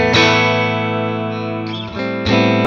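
Telecaster electric guitar with single coil pickups, a sustained strummed chord ringing bright and close with a slight effect, then a quick restrummed chord near the end, played alone.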